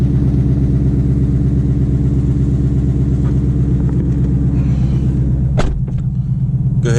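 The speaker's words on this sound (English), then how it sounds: "Yeah, this exhaust rattles really bad." A Ford Mustang's rattling exhaust at idle: a steady, loud, low rumble with a buzzing harmonic drone throughout, and a brief sharp clatter near the end.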